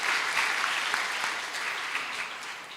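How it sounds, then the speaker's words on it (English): An audience at a Falling Walls Lab Indonesia 2024 event gives a round of applause: a sustained, fairly loud patter of many hands that fades slightly toward the end, with no talking over it. "please give a round of applause to Miss Dian"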